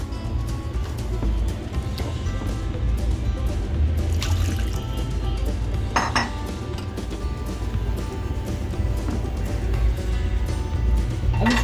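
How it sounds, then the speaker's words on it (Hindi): Water, about half to three-quarters of a cup, is poured into a pan of fish curry, a soft, continuous trickle and splash over a steady low hum from the kitchen. "इसमें थोड़ा सा पानी डालेंगे, आधा पौन कप के करीब"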